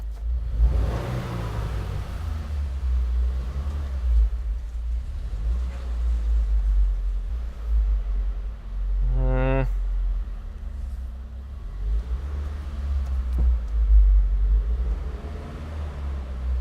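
A car engine revving, a low steady rumble that swells in a few surges, heard from inside the car with a brief rising tone in the middle, while someone talks over it.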